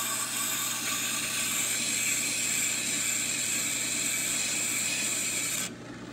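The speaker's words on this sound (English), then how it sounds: "That is a first cut. See all the rust dust flying off of it." Steady rasping grind of a first cut on a rusty brake rotor for a Mazda RX-7 Turbo II, a continuous loud scraping with a low machine hum beneath, easing off abruptly near the end.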